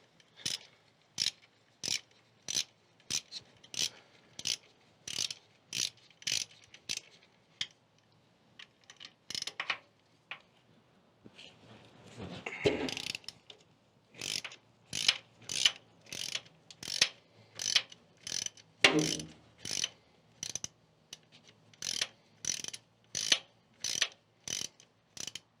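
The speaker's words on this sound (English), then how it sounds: "1/2-inch socket, we'll take it right off." A ratchet fitted with a 1/2-inch socket removes 1/2-inch bolts from the valve chest of a David Brown 990 tractor, a rapid run of crisp ratcheting clicks, a short break with some clunks, then more clicking, fairly faint, no talking.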